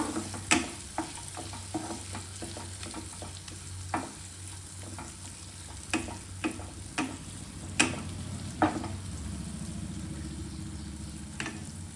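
Potato fries are stirred in a frying pan, with a soft continuous sizzle beneath a dozen or so sharp utensil clinks and scrapes at irregular intervals, close and fairly quiet with no voices.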